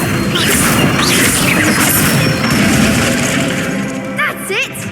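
Incendio fire spell cast in the Hogwarts Legacy video game, a loud crackling whoosh and burst of magical flame with crashing texture, followed near the end by brief voices.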